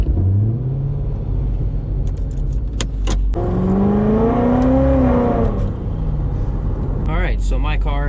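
A 700 hp Corvette with the Magnuson option, driven on the street in Sport mode, accelerates with a rising engine pitch and steady low rumble heard from inside the car, with people talking over it.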